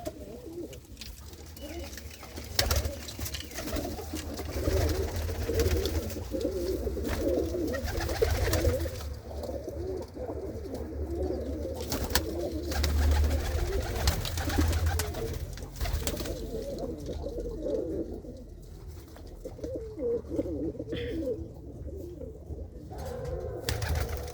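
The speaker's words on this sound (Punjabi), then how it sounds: "ਹਰ ਤਰ੍ਹਾਂ ਦੇ ਆਪਣੇ ਵੇਦ ਵਿੱਚ ਕਬੂਤਰ ਹੈਗੇ ਆ" A loft full of many kinds of pigeons fills the air with constant low cooing, overlapping throaty calls rising and falling, with occasional wing flutters and knocks close by.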